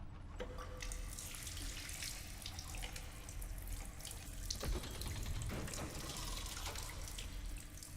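A sink tap in the video game Stasis runs steadily, water splashing and gurgling into the basin with small drips and bubbling, close and continuous with no speech.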